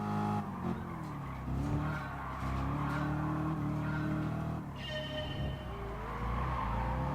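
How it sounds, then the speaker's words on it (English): A race car in Gran Turismo Sport revs steadily, its engine pitch climbing and shifting through gears with a faint tire squeal, loud and continuous throughout. "Let's take a minute to listen to the car."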